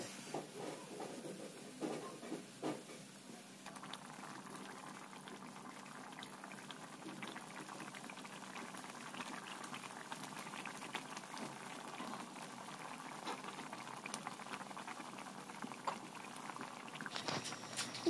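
Water and spice mixture bubbling in a pan, a steady, faint, continuous boil with soft patter and hiss throughout, no talk.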